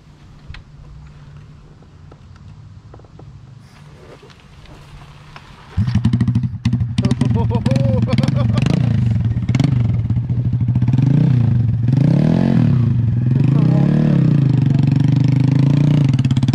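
A Honda Grom motorcycle kick-started with the clutch, its small engine catching after a quiet stretch and then idling and revving in repeated rising bursts, close and loud outdoors.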